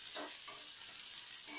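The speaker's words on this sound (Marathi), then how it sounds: "आता हा कांदा आपण छान परतून घ्यायचा आहे" Chopped medium onions and four slit green chillies sizzle steadily in a pan, a continuous close frying hiss with a brief stir around the middle, no talking.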